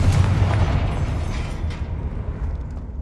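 A Confringo fire spell from Hogwarts Legacy bursts in a loud, rumbling explosion up close, its boom fading into a low, crackling decay over a few seconds.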